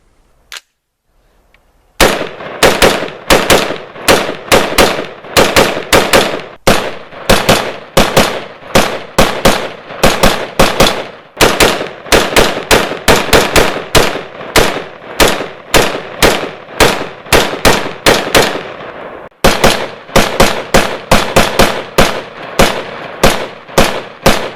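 An AR-15 pistol fires outdoors at propane tanks, sending long rapid strings of loud, sharp, close shots with only brief pauses between volleys across the whole stretch.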